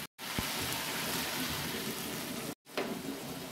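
Water poured into a cooking pot of potatoes, eggplant and kohlrabi, a steady hissing sizzle over a few seconds with two brief gaps, loud and close.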